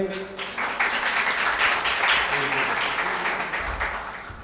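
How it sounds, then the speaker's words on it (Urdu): Audience applause at a speech competition event, a full, steady wash of clapping that fills the room as a speaker is welcomed to the stage, staying loud throughout and easing slightly near the end. "آپ سب کی بھرپور تالیوں میں"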